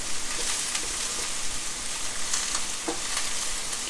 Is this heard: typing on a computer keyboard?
no